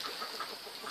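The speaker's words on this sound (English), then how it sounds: "in the back there are chickens and ducks" Chickens kept in a backyard pen alongside ducks give a brief burst of soft, rhythmic clucks, heard from a short distance with no talking.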